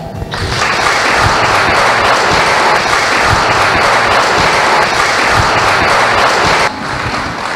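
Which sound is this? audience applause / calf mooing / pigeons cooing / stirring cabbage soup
audience applause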